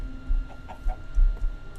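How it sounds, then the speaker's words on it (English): A Minecraft chicken clucks in a few short, soft blips over low background rumble, close by with no talking. "In a normal setting, this chicken would be interested in the seeds."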